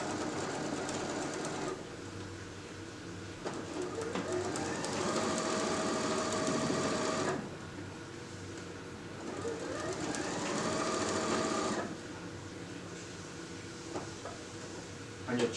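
A sewing machine stitches all the way around the edge of a fabric bouffant hat brim, running in long steady bursts with brief slower pauses between passes, close and fairly loud with no talking.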